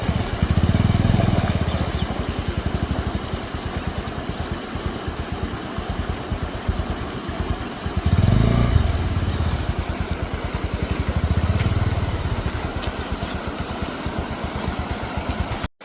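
Motorcycle engine droning steadily on a dusty offroad ride, a continuous mid-loud rumble that swells in places as the throttle rises, with no talk.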